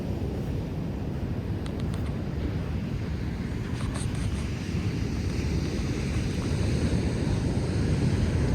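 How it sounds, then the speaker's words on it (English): Steady roar of Pacific Ocean surf with wind buffeting the microphone, continuous and fairly loud throughout. "the background noise of the ocean"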